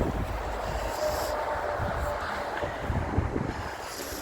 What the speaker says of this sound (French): Putain, le vent là, c'est pas possible.